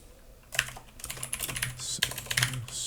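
Fingers tap a computer keyboard in short irregular bursts of quiet clicks, close by, with brief pauses between runs of keystrokes and no talk.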